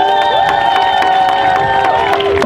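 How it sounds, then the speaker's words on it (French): A large outdoor crowd at a climate march in Avignon cheers and claps steadily, with tonal whoops and shouts over dense clapping, loud and close throughout. "Je vous demande également de les applaudir."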